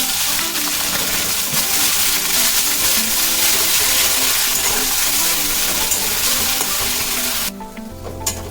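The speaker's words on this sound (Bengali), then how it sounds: "কুড়িয়ে রাখা পেঁয়াজটা দিয়ে দিলাম, দিয়ে ভালো করে ভেজে নেব।" Onions frying in hot oil with a bay leaf in a pan, a loud continuous sizzle with occasional stirring scrapes that drops away sharply near the end.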